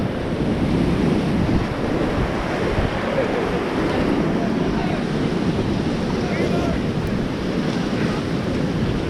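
Steady rushing water from river rapids on the Pacuare during a whitewater rafting trip, loud and continuous with wind buffeting the microphone, while a guide calls out commands over it.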